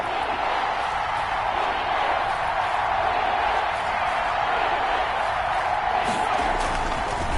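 A stadium crowd in a football video game roars in a steady, dense wash of cheering and whoops, building ahead of a big third down, loud and continuous throughout.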